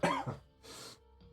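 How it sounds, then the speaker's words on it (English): A person clears their throat close to the microphone, a rough cough-like rasp followed by a shorter breathy second clear, then a faint trailing sound, in a quiet room. "Need to clear my throat."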